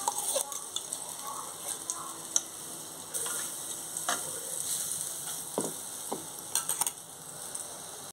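Garlic chili paste fries in oil with cumin in a kadai, giving a continuous close sizzle broken by scattered scrapes and taps as it is stirred.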